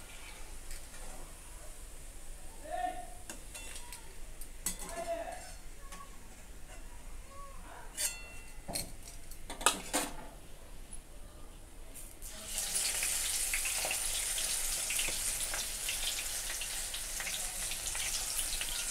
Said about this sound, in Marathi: राहिलेली पण पानं बघा आता अशीच आपल्याला तळून घ्यायची आहे.